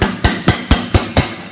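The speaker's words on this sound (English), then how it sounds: "or you could do it with a hammer" Six sharp metallic hammer taps land in an even rhythm, loud and close, as used with automotive paintless dent repair tools from 1989 plant work.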